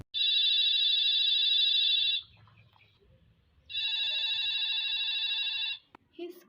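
Two long bursts of a telephone ring, a steady trilling bell separated by a quiet pause, heard clearly and alone.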